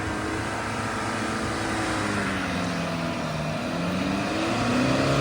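MG Majestor SUV engine under load while off-roading, a continuous droning hum with shifting pitch as revs rise and fall, close and steady with wind and terrain noise, no talking.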